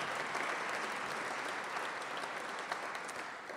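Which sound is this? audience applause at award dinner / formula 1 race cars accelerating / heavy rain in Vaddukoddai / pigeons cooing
audience applause at award dinner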